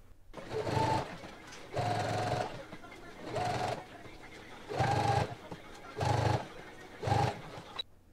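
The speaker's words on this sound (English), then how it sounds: "So machine baste from the top of your facing all the way down to your dot" A sewing machine basting the center front seam of McCall's 7726 wide leg pants runs in six short, even bursts of stitching separated by brief pauses, fairly close and moderately loud.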